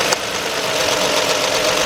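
A 2007 Nissan Murano 3.5 engine idles roughly with a cylinder 3 misfire, a loud, steady, close drone with an uneven, stumbling pulse running throughout.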